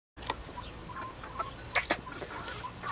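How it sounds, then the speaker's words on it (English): Meat chickens about three months old cluck softly in a 10x20 coop cage, with scattered short clucks and calls rising over a low outdoor background. "So at the present time, the chickens are busy enjoying the shade."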